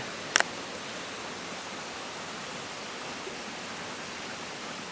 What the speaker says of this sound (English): Cedar Creek Falls is pumping, all 80 feet of it